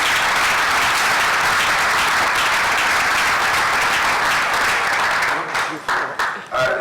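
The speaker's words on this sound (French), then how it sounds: "Ça vaut des applaudissements, s'il vous plaît." A crowd applauds loudly and continuously in a hall, a dense wash of clapping that holds steady for several seconds before breaking up into scattered claps at the end.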